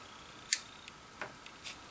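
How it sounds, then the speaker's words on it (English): God Hands nippers snip sprue nibs off a plastic model kit, one sharp crisp cut followed by a few faint small clicks in a quiet room. "Let's cut those nibs off."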